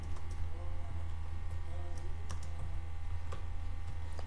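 Quick clicking keystrokes on a computer keyboard, typing a company slogan during logo design work in Adobe Illustrator, steady and close over a constant low hum, with brief sharper taps throughout.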